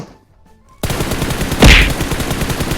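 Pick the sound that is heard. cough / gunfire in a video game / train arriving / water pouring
gunfire in a video game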